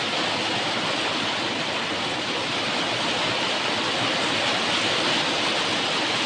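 Rain falls outdoors in Tashkent as a dense, steady hiss, broadband and unbroken, loud and close.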